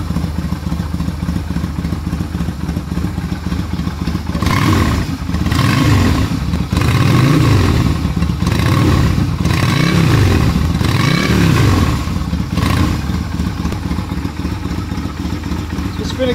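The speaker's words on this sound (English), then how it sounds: "by no means does this thing sound like a 250. It actually sounds like a much bigger bike. It's got a nice mean little rumble to it now." A Yamaha Virago 250cc cafe racer bobber motorcycle idles with a deep, rumbling exhaust, then is revved in several short blips mid-clip before settling back to a loud, close idle.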